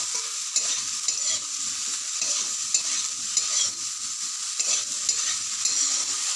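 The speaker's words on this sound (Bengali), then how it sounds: "দিয়ে এটাকে এখন নাড়তে হবে।" Aubergine with turmeric being stirred in a pan, a spatula scraping and tapping in irregular strokes over a bright, steady sizzle, close and without talking.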